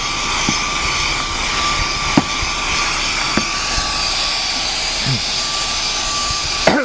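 A ThisWorx corded car vacuum runs with a steady, close whirring drone, broken by a few brief clicks and knocks as it is moved around; speech is faint or absent.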